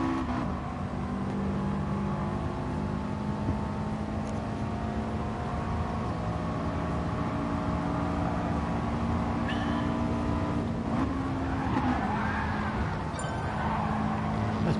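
Race car engine droning steadily as it drifts wide with understeer in a racing game at Spa, a continuous loud whine and hum with shifting pitch and no pauses.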